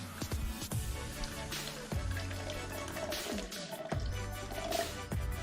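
Water from a robot vacuum's water tank, filled almost to the brim, trickles and drips steadily at close range with soft gurgles and splashes, fairly quiet and unaccompanied by speech.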